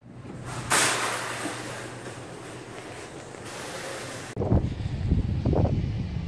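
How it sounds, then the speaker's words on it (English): Strong wind buffets a microphone outdoors with a loud, broad roar that swells and eases. It drops briefly near the end, then returns as gusty rumbling. "I don't know if you guys can hear me, it's really windy."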